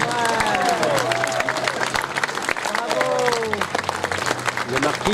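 Lively audience applause and clapping for costumed Venetian-carnival participants at a podium event in Chanaz, continuous and fairly close with cheering, talk and a held musical tone running underneath.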